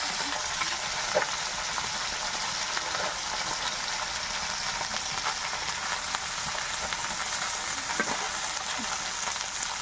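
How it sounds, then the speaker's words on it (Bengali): Small parshe fish fry in hot mustard oil in a wok, making a dense, continuous sizzle with occasional faint pops and spatula touches. "তো মাছগুলো ভেজে নেব।"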